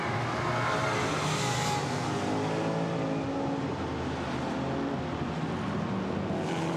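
GT4 race cars roar around the Misano circuit, with a loud, sustained engine drone that rises and falls as cars accelerate and pass close by.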